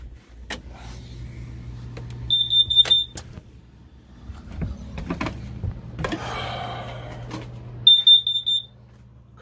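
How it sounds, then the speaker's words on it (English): On a boat, a falsely triggered carbon monoxide alarm sounds two short bursts of high electronic beeps, separated by several seconds of low hum and scattered knocks and rustling. "Carbon monoxide alarm."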